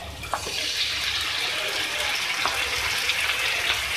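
Beef cooking in a pan with a fried paste of tomato, green chilli and onion, giving a steady, close sizzle and bubbling hiss that runs evenly throughout with no talking.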